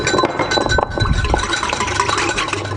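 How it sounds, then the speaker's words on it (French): Egg yolk is whisked into lemon juice in a bowl: quick, close, continuous scraping and clinking of the whisk against the bowl, brisk and fairly loud. "et on fouette"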